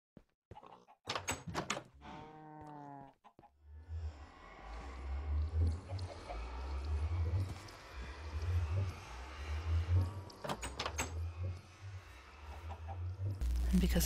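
Minecraft chickens cluck near a diorite deep sea research facility on an island, a rapid string of low clucks repeating under a busy game soundscape with scattered clicks, knocks and other creature sounds.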